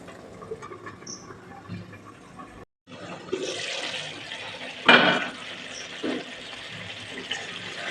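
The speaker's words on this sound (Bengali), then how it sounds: "এবার আমি ঢাকা দিয়ে ফুটিয়ে নেব।" Stuffed pointed gourd curry in a milk gravy simmers under a lid, giving a steady hissing, bubbling wash with one brief break and a few louder surges, with no talking.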